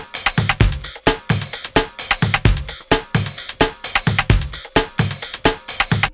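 A breakbeat drum loop at 130 BPM punches out sharp kick and snare hits with busy ghost strokes in a tight, driving repeating pattern, loud and dry with no voice.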